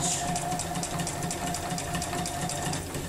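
A sewing machine running steadily while free-motion quilting along a stitch line in the ditch, a fast even mechanical chatter heard close and alone.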